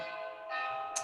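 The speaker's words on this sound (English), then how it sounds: "I love your chimes in the background, Carolyn." Wind chimes ring in the background, a sustained shimmer of metallic tones that swells midway, followed by a brief bright strike near the end.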